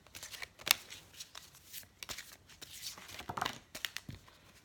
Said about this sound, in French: Je vais vous tirer une petite carte de l'oracle des fées